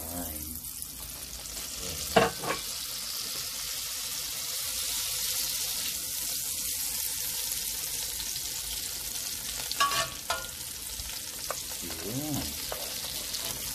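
Olive oil and a knob of butter sizzle in a cast-iron Dutch oven, a soft continuous hiss with a few clanks and scrapes and brief spoken interjections over it.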